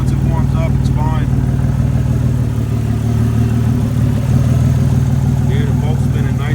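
A twin-turbo Camaro engine warming up at idle, a loud, steady, close rumble throughout, with a person talking over it.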